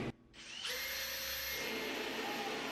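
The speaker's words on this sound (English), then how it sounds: "because this jig's reversible, I can drill from both sides" A power drill boring cabinet handle holes through a reversible drilling jig spins up after a brief pause, then runs as a steady, loud whine close by, with no one talking.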